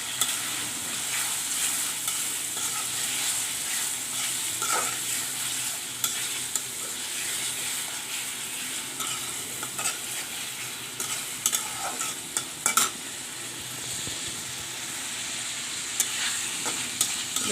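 Small tengra fish frying in a pan with mustard, a dense, steady sizzle up close with occasional clinks and scrapes of stirring.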